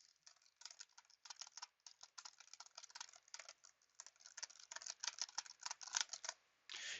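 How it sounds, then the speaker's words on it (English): Rapid typing on a computer keyboard while generating encryption keys, a quick run of close, clicky keystrokes that ends with a firmer press of the enter key. "Hit enter to exit."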